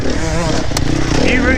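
Dirt bike engine running steadily up close, a loud continuous buzzing drone with a brief sharper rev burst midway, mixed with rider chatter.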